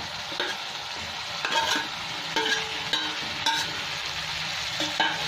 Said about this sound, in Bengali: এবার ভেজে রাখা আলু আর মাছের মাথাটা উঠিয়ে দিচ্ছি